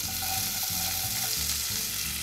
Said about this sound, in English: we can go ahead and start sauteing our vegetables